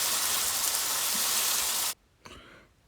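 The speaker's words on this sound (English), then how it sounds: "you should hear a sizzle" Beef burger patties sizzle loudly on a hot cast iron pan, a steady dense hiss that cuts off abruptly near the end, leaving a few faint crackles.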